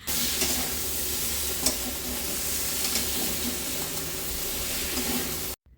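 Soya chunks fry in a pan with onion, tomato and garlic paste, giving a loud, continuous sizzle and hiss with occasional stirring scrapes, close up and without talk.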